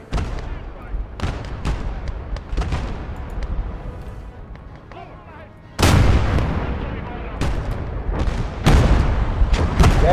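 Tank cannons boom again and again in a World War II video game battle, including StuG assault guns firing at an enemy's flank. Sharp, loud blasts arrive at irregular intervals under excited commentary.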